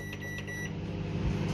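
A microwave oven heating milk gives off a steady electric hum, close and moderately loud, with faint high tonal whines early on and no talking.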